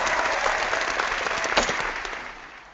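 A round of applause from a crowd, with dense and steady clapping that is fairly loud and close, fading slightly at the end.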